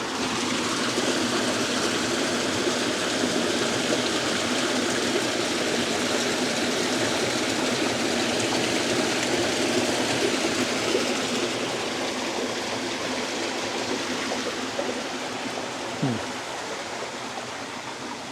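Water rushing steadily at an abandoned 1849 mill dam in Burrillville, Rhode Island, a loud broadband roar that holds continuous and close for the whole stretch, easing slightly near the end.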